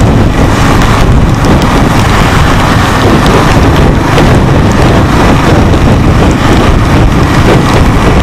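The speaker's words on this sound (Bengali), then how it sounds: "বেশ ভালোই বৃষ্টি হচ্ছে।" Heavy rain pours during a motorbike ride, a loud, constant roar of rainfall and wind buffeting the microphone with no letup throughout.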